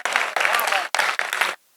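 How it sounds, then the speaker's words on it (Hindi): An audience at a mushaira poetry gathering at Aligarh University claps loudly in a few dense bursts with brief gaps, welcoming a poet before cutting off abruptly. "जोरदार तालियों से इस्तकबाल जनाब हसन काज़मी का।"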